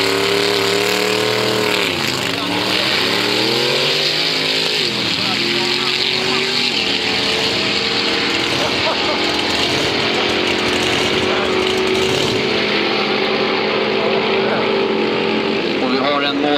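Drag racing cars at Kjula Dragway in Sweden, loud continuous engine roar with rising and falling revs as cars launch and run, a commentator talking over it throughout.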